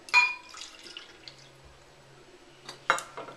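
Hazelnut milk is poured into a cup, heard as a few faint liquid splashes and drips, quiet and close, with soft clinks at the start and end.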